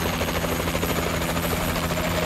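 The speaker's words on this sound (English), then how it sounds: "Friendly assault drone inbound." A friendly assault drone flies in during a Call of Duty Advanced Warfare multiplayer match, a steady, loud rotor-like whir and hum that holds without a break, dense and close.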